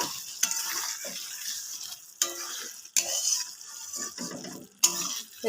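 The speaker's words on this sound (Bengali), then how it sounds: "এবার ঘিটা আমি ভালো করে পটলের দোরমাটার সঙ্গে মিশিয়ে নেব।" Ghee being stirred into potol dolma, stuffed pointed gourd, in a pan: a ladle scrapes and knocks against the metal in repeated strokes, with soft sizzling between them, close and clear, no speech.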